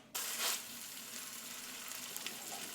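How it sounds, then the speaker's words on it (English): Steaks hit smoking-hot beef tallow in a pan, bursting into a loud, steady sizzle that stays constant and close throughout with no talking. "Then we got our beef tallow. Pretty hot, starting to smoke. It's time to add some steaks."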